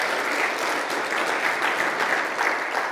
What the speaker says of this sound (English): Let's give a big round of applause and thankfulness acknowledging